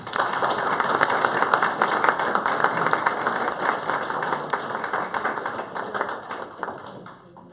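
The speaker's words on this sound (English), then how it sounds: "let's give a big round of applause" A crowd of community neighbors at a morning gathering gives sustained applause, a dense even patter of many hands that holds steady for several seconds and then thins out near the end.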